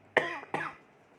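Two sharp coughs in quick succession from a teacher who has a cough and cold, close to the microphone in a quiet room, each with a short rasping tail.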